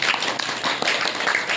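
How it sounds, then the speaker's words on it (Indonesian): Audience clapping at an Indonesian talk or motivational gathering, a brief steady patter of many hands filling the space at moderate volume, with no voices over it. "Tepuk tangan."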